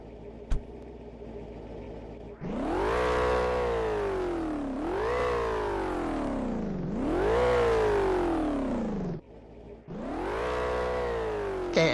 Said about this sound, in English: And it's revving right now.